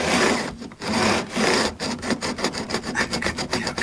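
Excess fret ends on the neck of a Westone Concord 1 guitar are worked down during a refret. Close, rasping strokes scrape steadily, then turn into quicker rhythmic back-and-forth passes.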